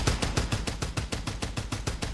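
Frozen ice-gun shots fired in a shooting video game, a rapid, evenly spaced string of about ten sharp blasts in quick succession, moderately loud and with no talking over them.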